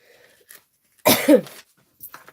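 A single harsh throat-clearing burst, close and fairly loud, with quiet breathy noises before and after.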